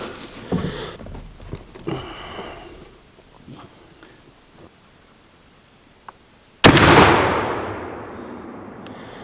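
A single loud, sharp gunshot from a shotgun firing slugs at a target on a range, with a long decaying echo afterward, preceded by faint outdoor background noise and small knocks.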